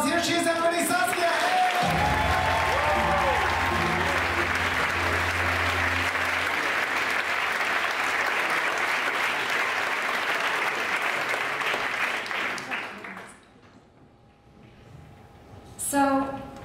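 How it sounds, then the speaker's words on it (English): Loud, full applause from the audience at a science slam in Basel, beginning over brief announcer talk and music, building into a long steady roar of clapping, then fading out with a few last claps. "her a big round of applause"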